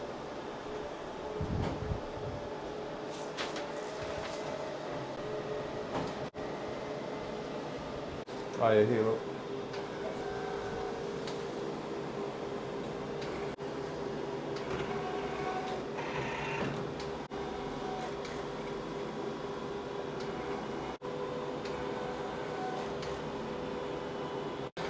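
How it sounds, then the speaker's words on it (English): A large format printer runs while printing vehicle vinyl wrap, giving a steady mechanical whir and hum with faint carriage movement under the room noise, while people talk briefly nearby. "it should start printing on our large format printer now as well"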